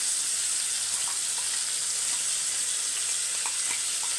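Ground paste for a prawn and drumstick curry sizzles steadily in a hot pan, a dense, even frying hiss that runs throughout with a few soft stirring ticks.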